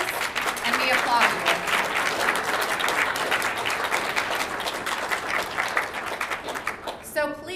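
An audience at a Seattle Southside Chamber candidates night applauds the candidates running for public office, a loud, steady round of clapping that holds for several seconds before a voice cuts in at the end.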